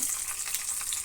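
Mustard seeds, chana dal and urad dal crackle in hot oil for a chutney tempering, a brief bright sizzle with tiny pops.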